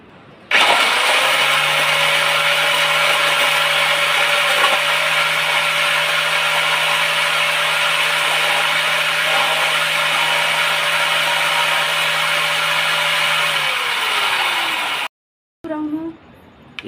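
A homemade mixer grinder grinding chillies and spices starts up into a loud, steady motor whine that holds for about thirteen seconds. It then winds down and stops, followed by a brief clatter.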